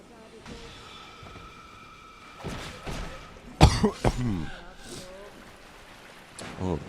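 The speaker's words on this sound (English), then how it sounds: "sorry to cough into the mic like that" A person coughs loudly into a close microphone during a Dark Souls 2 gameplay session, two or three sharp bursts midway over quiet game sounds with faint background noise.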